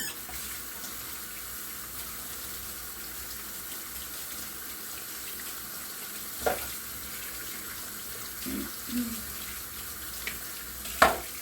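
Tap water running steadily while Keurig coffee maker parts are rinsed at a kitchen sink, a soft continuous flow with a few faint clinks and knocks near the end.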